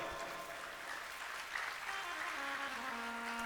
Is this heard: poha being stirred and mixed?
no